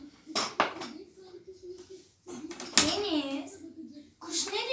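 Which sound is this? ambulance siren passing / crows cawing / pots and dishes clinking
pots and dishes clinking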